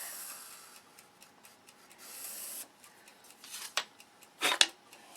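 Scissors cutting out a marked rib pattern from a sheet, a quiet sequence of soft snips and rubbing strokes, with a few sharper, louder cuts near the end and no talk.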